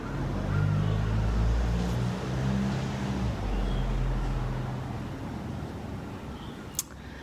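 Road traffic drones steadily outdoors with a low rumbling engine wash of passing cars that swells and fades gradually, fairly close and continuous, with a brief sharp click near the end.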